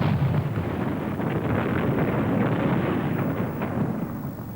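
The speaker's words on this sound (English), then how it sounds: "Some explosion, eh, fellas?" A loud, rumbling explosion roars and crackles, sustained for several seconds before slowly fading.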